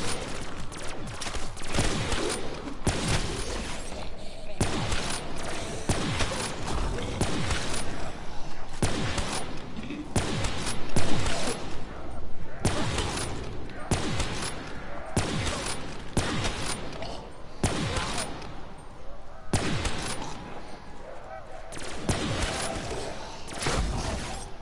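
Sustained gunfire in Black Ops 3 Zombie Chronicles, a loud, continuous barrage of booming shots in irregular bursts that lasts the whole time, with mechanical clanks between them.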